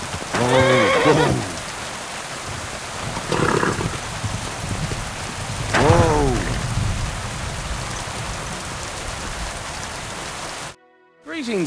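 A horse neighs in steady rain, three distinct whinnies spaced a few seconds apart over the constant patter of falling rain, fairly close, ending in a brief silence.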